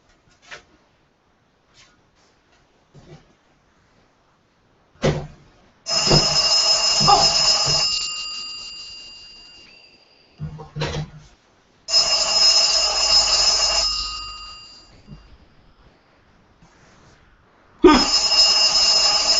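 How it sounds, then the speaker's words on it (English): Home telephone ringing in repeated loud electronic bursts separated by silences, with faint thumps in the gaps and no voices. "That is my mother's phone"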